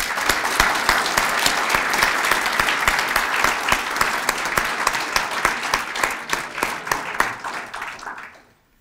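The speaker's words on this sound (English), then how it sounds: "I hope participants will join me in applauding you." A conference audience applauds steadily for about eight seconds, with dense, even clapping from a large hall and a few sharper claps poking through before it tapers off. No one speaks.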